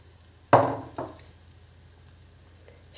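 Egg mixture is poured over fried onions in a hot pan and hits with a loud sudden sizzle, then a second smaller burst, fading into a soft, steady frying hiss.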